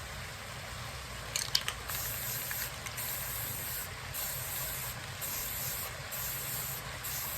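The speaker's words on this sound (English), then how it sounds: "we're gonna get some light coats of black spray paint on here" Steady hissing spray from a can of black spray paint coating a tumbler, continuous and fairly soft, with a few brief clicks near the start.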